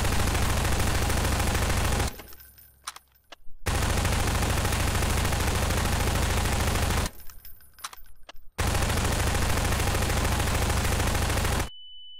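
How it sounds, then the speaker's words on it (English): Explosion of the TARDIS in the video game Garry's Mod: loud, dense crackling blasts fill the clip in two long bursts separated by brief near-silent gaps, ending in a sustained tone. "Okay, and now there is an explosion."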